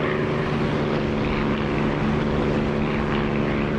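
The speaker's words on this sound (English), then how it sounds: "I'm using the Echo 19 Spitfire engine sound, highly recommended" Spitfire piston aircraft engine in a flight simulator, a constant loud droning propeller roar with a steady low throb, heard alone with no voices.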